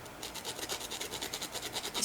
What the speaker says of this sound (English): if you rub it on the edge of your cardstock, look, you see how it's fluffing up?